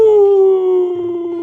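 A person imitates a wolf howling at the moon, one loud, close, drawn-out tone that slides slowly downward and wavers near the end.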